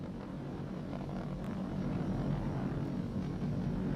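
Falcon 9 rocket with Merlin 1D engines roaring during ascent near max dynamic pressure, heard as a steady, loud, distant low rumble that holds constant throughout.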